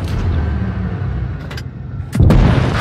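Tank cannon fire and a shell impact from a Matilda tank in World of Tanks Blitz on the Dead Rail map, with a steady engine rumble and a loud, heavy boom near the end.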